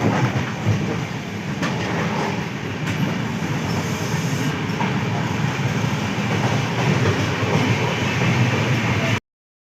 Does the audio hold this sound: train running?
yes